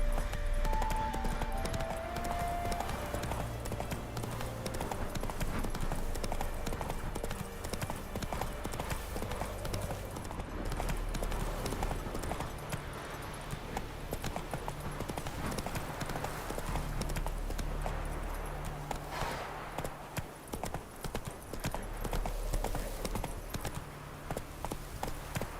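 Roach the horse trots in The Witcher 3, hooves clip-clopping in an even, continuous rhythm over a low game soundtrack, the pace slowing briefly near the end.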